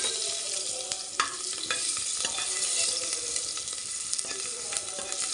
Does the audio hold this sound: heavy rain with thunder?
no